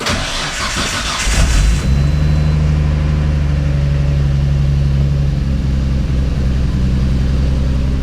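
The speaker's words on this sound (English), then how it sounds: "It's running. It sounds a little rough, but it's running." A car engine cranks with a rapid starter chatter, then catches and settles into a loud, close, rough and uneven idle that keeps running steadily to the end.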